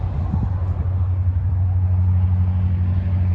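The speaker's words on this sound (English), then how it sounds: "You guys can hear I40, all the traffic behind me." Traffic on Interstate 40 near a ghost town, a steady low rumble of passing vehicles that stays loud and continuous, with no voices over it.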